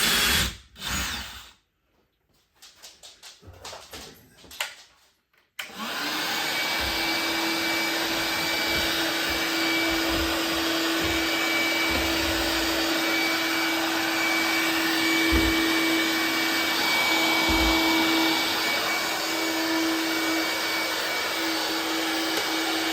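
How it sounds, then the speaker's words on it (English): A vacuum cleaner sucks up plaster dust, switching on after a few seconds of brief knocks and clatter and then running loud, close and steady, with a constant whine. "I've got a vacuum cleaner now, so I'll be able to clean that up in no time."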